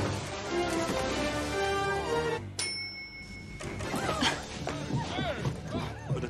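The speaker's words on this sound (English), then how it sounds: "Brings the horse right on." A horse whinnies loudly in a movie scene, a long rising and falling call, followed by a bright chime and scattered scene sounds with voices.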